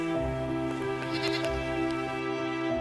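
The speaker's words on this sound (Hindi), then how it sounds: "थोड़ी देर इंतजार करने के बाद परशुराम भी अपने गाय और बकरियों को लेकर आ जाता है।" Goats bleat repeatedly in an animated Hindi folk tale scene, a herder arriving with his cows and goats, with layered wavering calls over a steady droning background.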